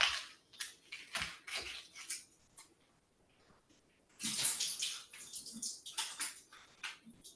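Liquid is drained from a package of extra firm tofu, with close splashing and trickling in two bursts separated by a quieter lull.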